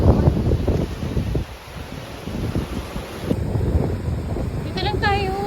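Gusty wind at a resort with nipa-roofed huts rumbles and buffets the microphone throughout, briefly easing midway, while people talk under it.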